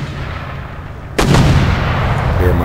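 Heavy mortars open fire in a strategy video game battle, a sudden booming report that cuts in partway through and leaves a dense, loud rumbling roar continuing to the end.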